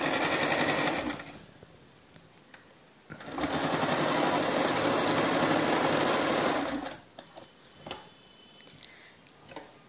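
A sewing machine stitches a blouse with piping in two long, steady, close runs of rapid mechanical whirring, separated by a short pause and followed by a few scattered clicks and handling sounds.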